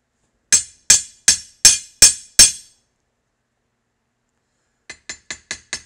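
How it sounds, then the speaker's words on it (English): A hammer strikes rivets on a heavy granite block for a Browning 1919 side plate replacement: six loud, ringing metallic blows about a third of a second apart, a pause, then five quicker, lighter taps. "when I'm hitting this, the hammer is almost literally bouncing"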